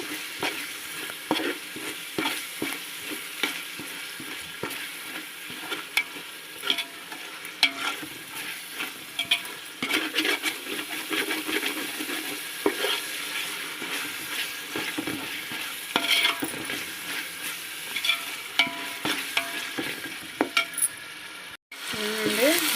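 Rice frying in a pan with a spoonful of sugar for bagara rice, with continuous close sizzling broken by frequent sharp scrapes and clacks of a spoon stirring against the pan, fairly loud throughout and without speech.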